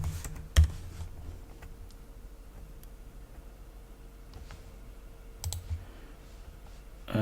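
A login password typed on a computer keyboard in an AlmaLinux virtual machine: a few sparse, light key clicks, a sharper tap early on and a small cluster near the end, over quiet room hiss.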